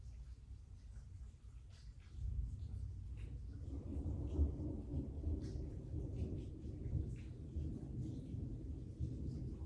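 A thunderstorm with steady rainfall and deep, rolling thunder that swells after a couple of seconds into a continuous low rumble, loud and sustained throughout.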